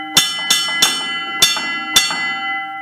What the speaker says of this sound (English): I'm going to demonstrate what that bell is going to sound like